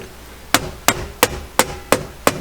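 Six sharp hammer blows land at an even, brisk pace during a Jeep Wrangler JK glovebox install, each a loud, close metallic knock with a short ring, and no talk over them.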